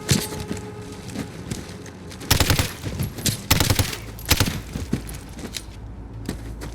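Gunfire in Call of Duty Modern Warfare, loud bursts of automatic rifle fire crackling in rapid clusters over a low rumbling game background, several volleys close together.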